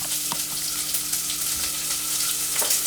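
Onion frying in a dry pan with no oil, giving a steady, close hiss of sizzling with a few faint clicks and knocks, no voices.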